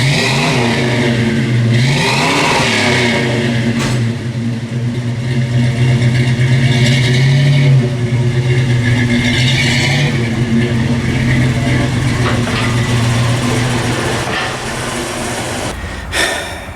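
A 1979 AMC AMX engine revs and pulls away, then keeps driving with a steady, close, loud drone that rises and falls slightly through the run, with no talk.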